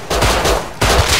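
Rapid automatic gunfire in the survival shooter Rust sounds as two loud, close bursts of shots, the second starting after a short gap, with no voices.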